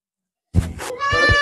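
A goat from a herd of dairy goats in Pakistan gives a loud, close bleat after a short silence, a wavering, nasal cry that rises into a drawn-out tremulous call.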